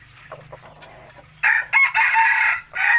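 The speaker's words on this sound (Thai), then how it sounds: "ตัวนี้จะขันคล้ายๆไก่ป่าเลยนะครับ" A rooster crows loudly and close by with a call like a junglefowl's, one long drawn-out call after some quieter background noise.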